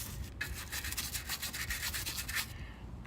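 Scrubbing items clean with a brush gives a rapid run of rough, rhythmic rubbing strokes, close and fairly loud, then stopping abruptly.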